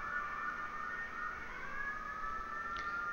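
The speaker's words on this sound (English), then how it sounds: "Sirens out there are pretty loud." A steady wailing siren sounds in The Legend of Dragoon video game, its sustained rising and falling tones continuous and fairly faint throughout, with no talk.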